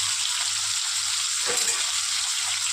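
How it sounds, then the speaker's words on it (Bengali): Boiled chickpeas and potatoes frying in a pan give a steady, close hiss of oil sizzle with a short burst of louder crackle midway, no voices. "খুব ভালো করে ভেজে নেব"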